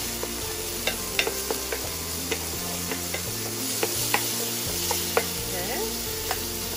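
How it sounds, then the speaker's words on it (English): Garlic sautés in a pan with a continuous sizzle while a utensil stirs it, producing a steady stream of small clicks and scrapes against the pan. "Next thing is our garlic. Now all we have to do is just mix it up."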